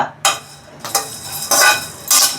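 Whole cloves being dry-roasted for garam masala rattle and scrape in an oil-free pan as they are stirred, in several loud, short bursts separated by brief pauses.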